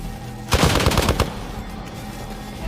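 Rapid burst of automatic gunfire from the video game Marvel's Midnight Suns, loud and close, rattling for under a second before cutting to quiet game ambience.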